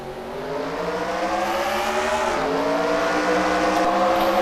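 Stock cars accelerating at the start of the Southern 500 at Darlington in a racing game, engines rising together in pitch to a loud, sustained, overlapping roar.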